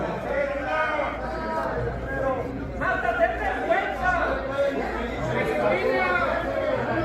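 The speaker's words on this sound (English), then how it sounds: "The crowd is saying, like, get out" Council chamber crowd shouting and jeering at a speaker, a dense wash of overlapping voices that swells and dips, close and loud throughout.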